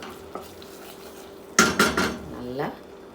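Bottle gourd and flattened rice payasam being stirred in a metal pot after simmering: a cluster of loud, close clanks and scrapes from a ladle against the pot, with faint voice-like sounds at the end.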